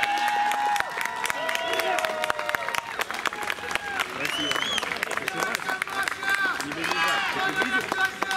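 An audience at a corporate event applauds in a dense, continuous patter of clapping, with voices talking over it.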